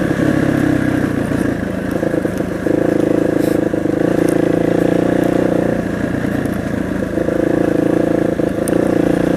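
A Kawasaki KDX two-stroke dirt bike engine runs loud and close, its buzzing tone rising and falling as the throttle changes, with some clatter and no talk.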